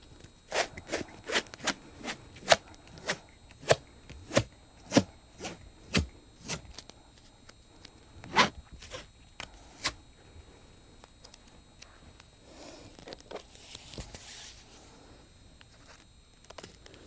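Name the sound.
2-inch tape being applied to a board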